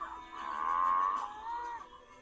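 Cattle lowing on a working ranch where a herd of cows and many young calves is being rounded up: one long, loud moo swells through the middle and a shorter call follows, with no talk.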